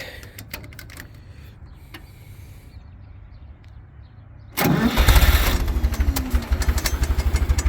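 After several seconds of low background noise, the engine of an original 1969 Ford 5000 tractor cranks and fires into a loud, rough, pulsing run.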